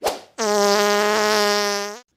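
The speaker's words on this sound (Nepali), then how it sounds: "पादियो सालेले पादियो" A single sustained buzzing, raspy tone lasting under two seconds, loud and close, after a brief noisy burst.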